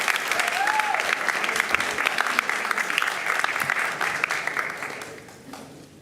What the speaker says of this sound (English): Let's give them a round of applause as the trustees stand for a picture.